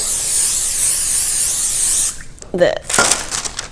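Cooking spray hisses steadily onto a pizza pan for about two seconds, close and continuous, then stops as a person begins talking.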